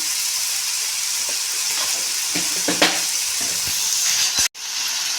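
An egg and onion mixture with curry leaves, salt and turmeric fries loudly in a pan, a steady close sizzle broken by a few scraping stirring strokes and a brief drop near the end.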